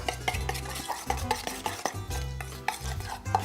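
Parmesan cheese is mixed into carbonara pasta, close sticky stirring and clinks of a utensil against the pan in quick irregular strokes, with no talking.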